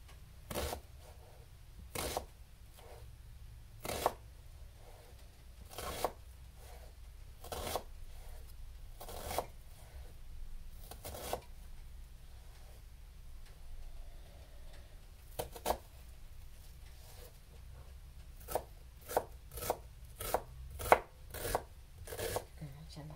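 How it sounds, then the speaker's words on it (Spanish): Onion being finely chopped on a board, sharp knife strikes arriving in scattered single hits and then in a faster run of chops toward the end, close and crisp against a quiet room. "pero la pico por pequeña para sentirle sabroso."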